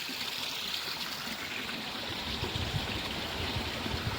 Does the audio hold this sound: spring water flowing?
yes